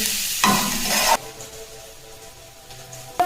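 Mixed vegetables sizzle and scrape in a hot pan as they are stir-fried for chow mein, with bursts of louder frying between quieter moments.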